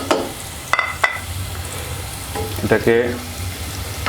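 Potatoes sizzle in hot oil with a continuous crackling hiss and several sharp clatters from utensils. A voice speaks briefly over the frying near the end.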